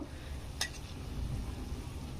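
Small sweets for mini botfol frying in oil, cooked a few at a time: a soft, steady bubbling sizzle with one brief clink of a utensil, fairly faint and without talk.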